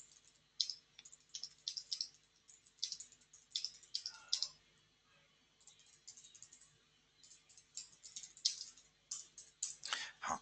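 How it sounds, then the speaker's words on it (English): A message is typed on a computer keyboard in bursts of soft, close clicking with brief pauses between runs of keystrokes. The clicks are fairly quiet throughout. "I just want to type a message to Jerome."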